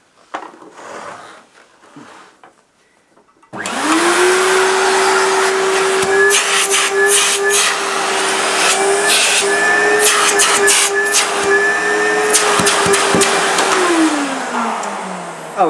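A red ETA Dynamix cylinder vacuum cleaner switches on after a quiet few seconds, then runs as a loud, steady, close whine with a sustained motor tone, dropping in pitch as it winds down at the end.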